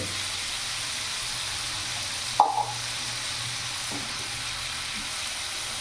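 Spice paste for an aloo paneer dish sizzles steadily in a hot pan, with a couple of brief stirring scrapes partway through against the constant frying hiss.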